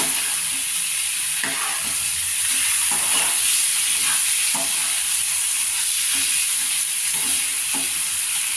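Chicken and potato curry sautéed in a pan, a continuous loud sizzle with a spatula scraping and knocking irregularly throughout, close and with no talk.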